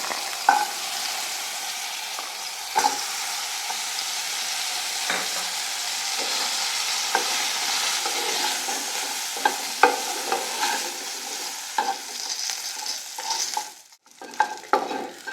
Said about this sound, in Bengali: এবার এতে আমি বড়িগুলো দিয়ে একটু ভেজে নেবো